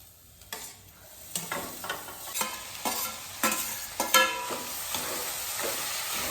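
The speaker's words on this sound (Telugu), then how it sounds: "ఇప్పుడు బాయిల్ చేసి పెట్టుకున్న కీమా వేసేద్దాం" Boiled mutton keema goes into a hot pan with ginger-garlic paste and is stirred, giving repeated scraping stirs over a steady close sizzle.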